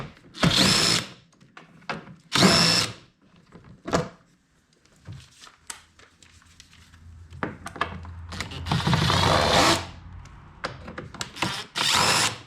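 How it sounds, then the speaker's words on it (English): A power driver with a 5/32 hex bit backs screws out of a Polaris snowmobile dash plate, a few loud whirring bursts of varying length separated by short pauses and light clicks. "you need a 5/32 hex driver, and you pull out these 6 screws here."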